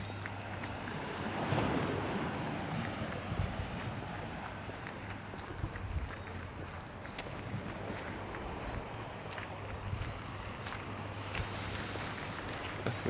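Surf and wind on a west coast beach in St. James, Barbados, the Gold or Platinum Coast, make a steady broadband wash of waves rolling in, with gusts buffeting the microphone throughout.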